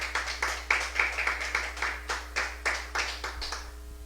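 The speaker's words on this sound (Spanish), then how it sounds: "Bríndele fuertes palmas al Señor" A church congregation claps hard and in steady unison for the Lord during a Spanish-language sermon, with sharp, evenly spaced claps repeating quickly for about four seconds.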